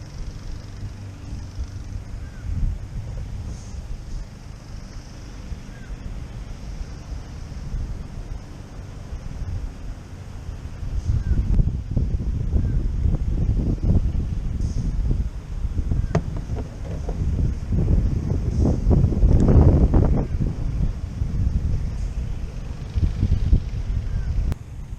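High wind sweeps across open water during fishing from a boat, a continuous low rumbling rush and buffeting that swells louder in the second half, with occasional faint voices.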